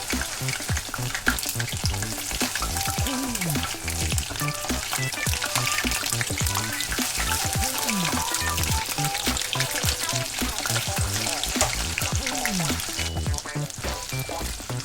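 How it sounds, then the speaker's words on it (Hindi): Batter-coated paneer pieces fry in hot oil in a kadai, a loud, steady bubbling sizzle running throughout with faint clinks and a brief murmur of voice beneath. "तो चलिए मैं यहाँ पर सारे पनीर को एक एक करके ऑयल में डाल देता हूँ।"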